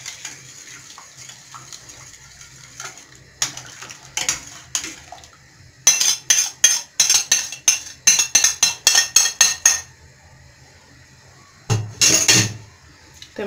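Tomatoes, onion, tomato paste and garlic are tipped into a pot of hot water, bringing a run of quick clinks and knocks against the metal pot, a brief splash and scrape at the end, with no talking.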